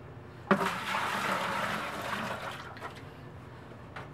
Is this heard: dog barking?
no